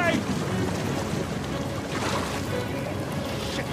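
Boat moving across water in Uncharted 4 on PS5, a steady broad wash of splashing water and engine rumble that runs continuously without breaks, loud and close.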